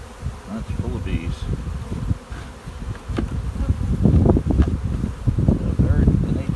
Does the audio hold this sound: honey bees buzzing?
yes